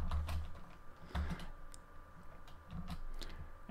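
Computer keyboard keys tapped while writing Ruby code, a quiet uneven patter of clicks in small clusters with short pauses, close and faint, no talking.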